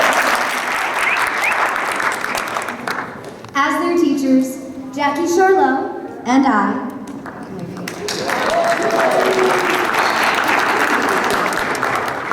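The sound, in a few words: round of applause for youth performers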